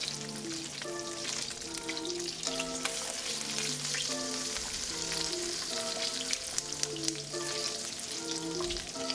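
Salmon fillet frying skin side down in an oiled pan, a steady dense sizzle running the whole time with music-like tonal lines layered over it and no talking.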